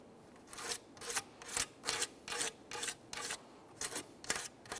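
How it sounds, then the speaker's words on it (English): A bore brush scrubs carbon from the intake ports of a 2014-2018 Mazda 3 2.0L four-cylinder engine, giving about ten quick raspy strokes in a steady back-and-forth rhythm, close and fairly soft with no talking. "I'm just going to use a bore brush and attempt to make my way around"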